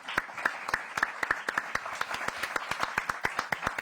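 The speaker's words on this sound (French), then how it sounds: "j'ai envie qu'on vous donne une belle main d'applaudissements pour ça" An audience at a Quebec culture ministry event claps. Sharp, distinct claps come at a steady rhythm, moderately close, and sound like a smaller group rather than a large crowd.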